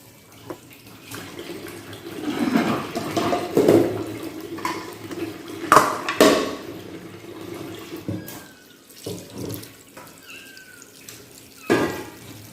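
Water is run and poured over salty pigtail to scald it, producing intermittent gushing and splashing in bursts, with quieter gaps and a few drips between them.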